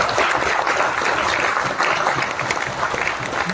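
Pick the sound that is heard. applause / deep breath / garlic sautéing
applause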